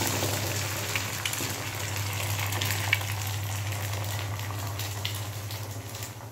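Mashed potato (aloo bharta) fries in oil with a soft, steady sizzle and crackle, faint and continuous under a low background hum, and no voices.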